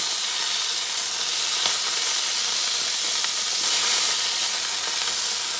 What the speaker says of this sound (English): Just browning them, giving them a nice color.